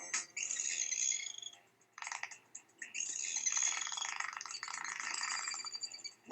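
A mother dolphin calls to her calf with rapid, chirping clicks and buzzy whistles in two sustained bursts split by a short pause, fairly clear and close.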